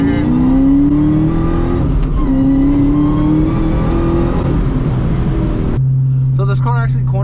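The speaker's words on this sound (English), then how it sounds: "we're gonna go ahead and do a little bit of speeding turns right here" An SVT Cobra Mustang on Toyo Proxes TQ tires takes fast turns, its engine droning loudly and rising in pitch through several pulls, then settling to a steady idle as a voice begins speaking.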